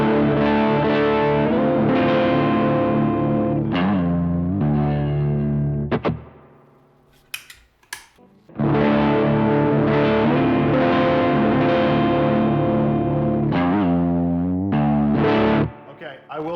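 An electric guitar runs through a gold Klon overdrive pedal, giving a crunchy, mildly distorted sound. Strummed chords and riffs ring out, with a brief near-silent pause partway through and a few faint noises in the gap.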